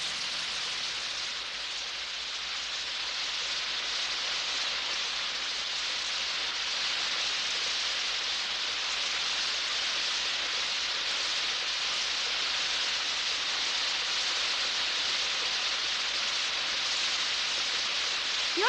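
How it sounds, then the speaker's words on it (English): Steady, heavy rain hisses evenly throughout, a dense wash of falling water with no voices. "Look, everybody, it's raining!"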